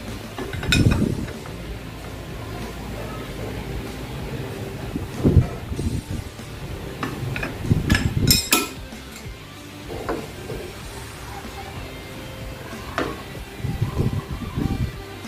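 Nuts being tightened with hand tools while replacing the ball race on a Honda Click V3 scooter, giving scattered metallic clinks and clanks in several short bursts over a steady background hiss.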